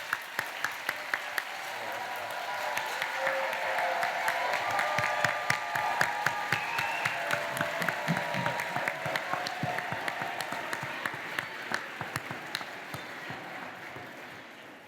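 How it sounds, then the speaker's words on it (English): An audience at an awards presentation claps steadily for the honorees, a sustained wash of applause with some sharper individual claps at the start and end, fairly distant. "please, another big round of applause"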